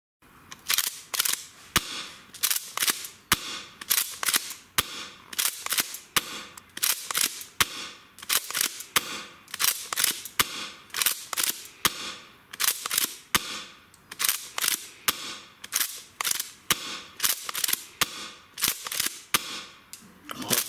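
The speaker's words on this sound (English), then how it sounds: "Gonna leave you with another video of me shooting." TM 870 airsoft shotgun fired repeatedly with a custom 3D-printed M4 magazine, sharp snapping shots in a fairly regular rhythm of about one per second, loud and close with brief pauses between.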